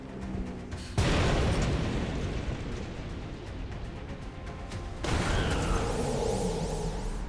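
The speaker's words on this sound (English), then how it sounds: "that grenade was a double shot" A grenade blast in XCOM: Enemy Within lands as a sudden loud boom, then a rumbling, crackling decay, with a second heavy burst about four seconds later and no one talking.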